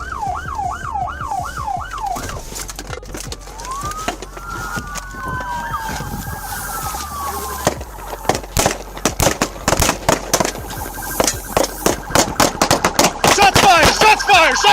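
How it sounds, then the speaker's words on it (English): Rapid, loud gunshots crack in dense bursts during a running police gunfight after a PIT maneuver ends a 40-mile pursuit, mixed with wailing sirens and the roar of vehicles. "Shots fired!"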